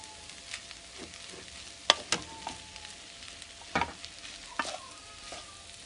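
Lamb and beef stir fry being mixed in a pan over medium heat, with a faint steady sizzle broken by a few sharp scrapes and clinks of the utensil against the pan, no voices.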